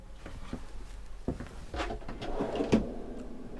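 A kitchen drawer in a Dethleffs Globetrotter XXL A 9000-2 EB motorhome slides open and shut with soft scraping and knocks, followed by a rolling rumble and a clunk, close by in a quiet room.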